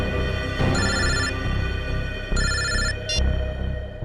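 A telephone rings in repeated electronic bursts, loud and close, over a steady background hum with no talk.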